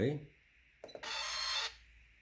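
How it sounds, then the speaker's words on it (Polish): A Novitus Nano Online fiscal cash register prints a receipt: a short clicking start, then a steady buzzing thermal-printer whir lasting under a second, heard close and clear after a voice at the start. "Kasa wstępnie drukuje nam paragon."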